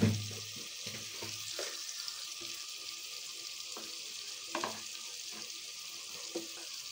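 Tomatoes and green chilies frying with spices and salt, giving a steady close sizzle with scattered light stirring taps and clinks, with no talking.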